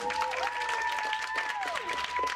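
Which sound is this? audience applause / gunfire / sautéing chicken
audience applause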